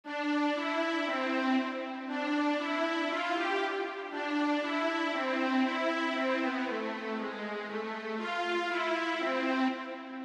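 A layered synth string combi patch on a keyboard plays sustained, textured chords that shift every couple of seconds, smooth and continuous at moderate volume with no talking.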